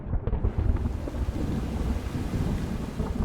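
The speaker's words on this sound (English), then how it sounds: "Then the rain came down" Thunder rumbles low and deep through steady heavy rain and wind, a continuous loud storm roar with no voices.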